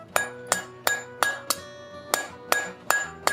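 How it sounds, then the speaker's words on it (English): A forging hammer strikes hot steel held against the side of an anvil while a coat hook is shaped. About nine sharp, ringing metallic blows land in a steady rhythm, each followed by a brief bright ring. "It's kind of a sideways blow where I'm pushing the hammer down, and basically I'm trying to move the steel out to a center point on this by keeping it against the side of the anvil."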